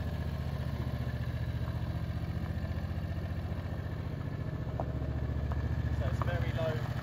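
A small engine idles on very low choke with a steady, quiet putter and a regular pulsing rhythm, close by.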